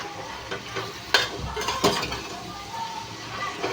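Ripe-ish sour mango pieces hit a pan with prawns, giving a soft sizzle with a few sharp utensil scrapes and clinks as they are stirred, close and fairly quiet.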